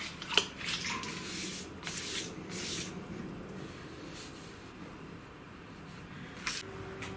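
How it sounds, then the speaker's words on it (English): Aerosol spray-painted car top coat being rubbed out by hand, a soft, steady scrubbing and squishing friction close by, with a few brief sharper scrapes. "as I'm rubbing this top layer out, I'm finding in areas that it's actually starting to flake"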